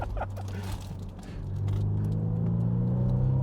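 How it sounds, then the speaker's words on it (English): BMW Z4 sports car on new tires accelerating hard through a road corner: a close, steady engine drone that climbs in pitch and swells louder partway through, with no voices. "I've taken this car through a few corners under acceleration"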